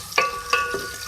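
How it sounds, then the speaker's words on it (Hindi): Two medium-sized onions frying in oil, a continuous sizzle broken by three quick stirring scrapes, close and fairly loud. "सबसे पहले मैं ऑयल में 2 मीडियम साइज़ के प्याज ऐड करूँगी। इसको हम फ्राई करेंगे।"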